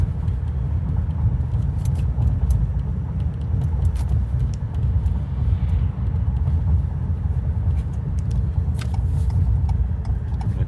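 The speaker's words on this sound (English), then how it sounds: "see if we can drive around in this parking lot here" A Ford Maverick hybrid pickup truck drives around a parking lot, giving a steady low road rumble and tire noise heard from inside the cab, continuous and moderately loud with faint small rattles.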